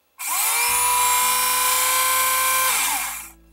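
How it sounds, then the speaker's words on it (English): A Tamiya electric handy router spins up and runs at high speed, giving a loud, steady, shrill whine with a low hum beneath, then winds down after about three seconds. "and here's the router speed."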